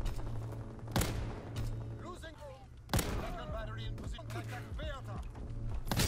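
Two loud, sharp PTRS-41 anti-tank rifle shots crack about two seconds apart in a shooter video game, each followed by lingering rumble, while game sounds and a talking voice continue between them.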